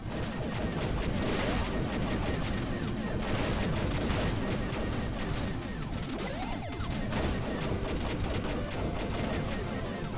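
Rapid, dense gunfire and explosive blasts from the pixel-art video game Blaster Master Zero fill the whole stretch without a break, loud and continuous over game sound effects.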